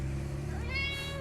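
Buttercup the cat gives a single short meow, close by and fairly soft, over a steady background hum inside a shop.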